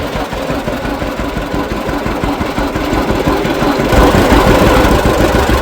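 Antique tractor engine running steadily while the tractor drives down a dirt road in fifth gear, a close, continuous low rumble with a dense mechanical chug that grows slightly louder toward the end.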